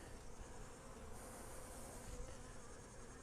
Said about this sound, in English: Just to give you an idea of how many bees are in this hive.